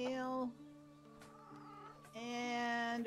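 Chickens cluck and chirp in the farming video game Medieval Dynasty, two short bursts of bright clucking separated by a quieter stretch, fairly soft and close with no talking.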